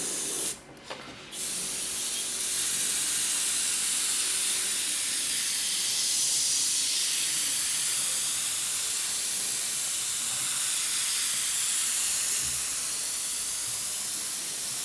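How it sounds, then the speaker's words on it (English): An airbrush fed by a compressor at 30 PSI blows a strong, continuous hiss of air for many seconds, close and loud, after a brief interruption near the start. "Compressor's up there on 30 PSI. And we want to spray some air coming out."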